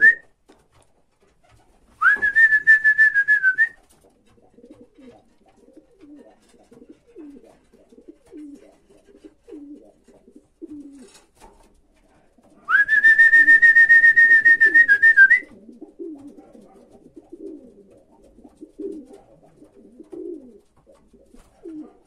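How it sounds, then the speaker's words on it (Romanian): Pigeons cooing softly and repeatedly at a breeding loft as birds come in one by one, with two long, loud whistles from a person cutting through the calls. "Să vedeți cum o să intre câte un porumbel în crescătorie"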